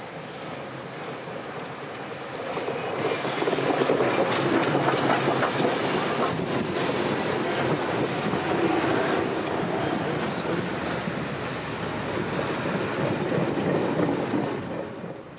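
A train rolls past close by through Chickamauga Battlefield State Park, Georgia, a steady loud rumble with clattering wheels and occasional metallic squeals, sustained throughout.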